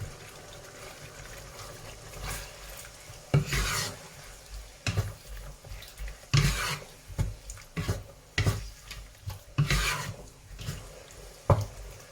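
Pork belly is stir-fried in a pan with a couple of spoons of fish sauce, repeated scraping strokes of a spatula over a low sizzle, coming in irregular bursts close by.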